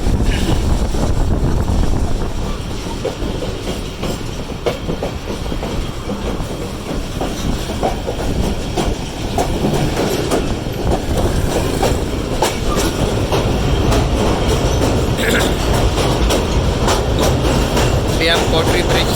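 Marvi Passenger train crossing the Kotri Bridge over the Indus River, a loud continuous rumble with rhythmic clickety-clack of wheels on the bridge and some voices underneath.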